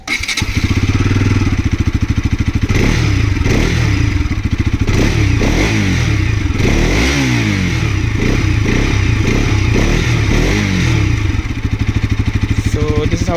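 Bajaj Pulsar RS200 BS6 motorcycle starting up and idling, a loud close single-cylinder clatter with repeated throttle blips rising and falling, running continuously without talk.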